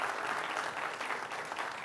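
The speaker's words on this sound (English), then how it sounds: "Let's give him a round of applause." Audience applause at a business presentation, a steady, fairly faint wash of clapping from a room of people, heard alone for a couple of seconds.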